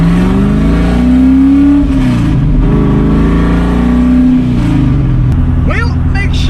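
A car on Toyo Proxes R888R tires accelerates hard, its engine revving loudly and rising and falling in pitch as it shifts through gears, close and steady throughout with faint voices in the cabin.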